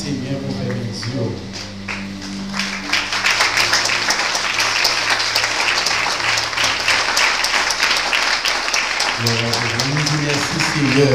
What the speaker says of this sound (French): Quand on va applaudir, c'est bien pour faire vision.